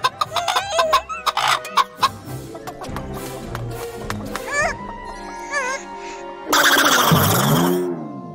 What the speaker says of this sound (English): this is no ordinary chicken